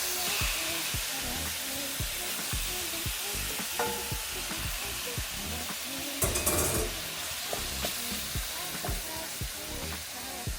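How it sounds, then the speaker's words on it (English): Shrimp hit a hot pan and sizzle steadily, with a dense frying hiss running the whole time and close stirring clatter on top, including a louder scrape partway through. "now that that's cooked down for about a minute, I'm gonna go ahead and toss in my shrimp"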